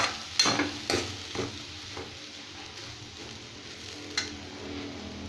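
A spoon stirs puffed rice upma dressed with lemon juice in a pan on a switched-off stove, giving a few distinct scraping clinks over a faint, soft sizzle, close and quiet.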